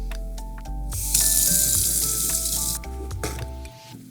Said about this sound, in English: wash your hands with soap and warm water